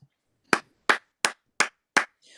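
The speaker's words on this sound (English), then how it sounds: "let me put my little clap applause here because we do have applause up in here" A played applause sound effect: five short, sharp claps evenly spaced about a third of a second apart, crisp and close, ending in a faint burst of noise.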